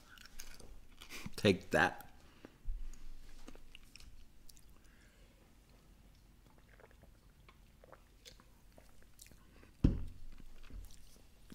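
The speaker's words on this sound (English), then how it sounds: "I'm going to chew this one because it's starting to get down to that dangerously thin, like razor-like piece of candy." Teeth bite and crunch through a thin, hard, razor-edged sliver of candy, a few sharp crackling bursts near the start and another snap later, close to the mic amid quiet mouth sounds and a brief spoken phrase.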